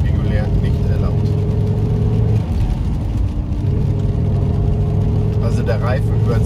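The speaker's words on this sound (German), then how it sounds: "Wir haben unser Aktiv-Sound-Modul haben wir an." A Dacia Duster II drives along a back road with its active sound module switched on, producing a steady, loud engine drone and road whir from inside the cabin, with speech over parts of it.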